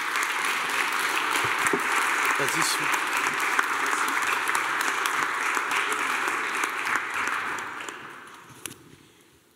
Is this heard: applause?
yes